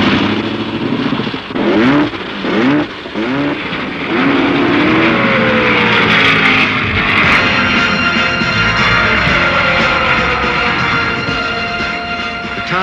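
Several race car engines at the California 500 fire up and rev hard, a dense loud roar of pitch sweeps rising and falling in overlapping waves, continuous throughout with crowd-like noise beneath.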